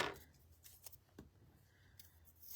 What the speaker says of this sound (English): So I prefer to just cut using my scissors.